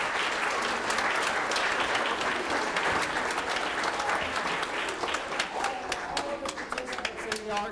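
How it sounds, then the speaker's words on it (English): Audience at a city school art show awards ceremony claps for the parents, a dense round of applause that thins toward the end with a few scattered claps and some crowd noise. "So let's give our parents a round of applause."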